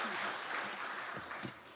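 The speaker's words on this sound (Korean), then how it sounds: "박수 한번 드리겠습니다" Church congregation applauding a missionary during a Sunday afternoon praise service, a short, faint round of clapping with a voice speaking over it.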